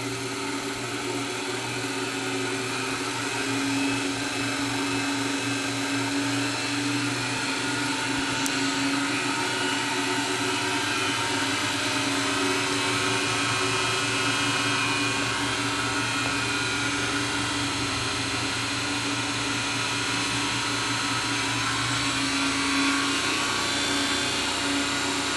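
An electric motor spinning at about 2200 RPM in a Tesla amplifier experiment gives a steady, even mechanical whine and hum that runs unbroken throughout, with no voices.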